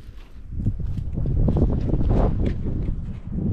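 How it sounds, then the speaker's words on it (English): Steady outdoor breeze beside a pond on a windy day, buffeting the microphone as a continuous low rumble that swells and eases without pause. "I also apologize if it's very breezy. That's just the weather today."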